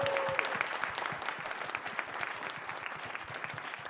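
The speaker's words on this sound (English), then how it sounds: "can we get a round of applause for Jake?" Dense, steady applause from a convention audience for a helper on stage, many hands clapping at once at moderate loudness, continuous for several seconds without a break.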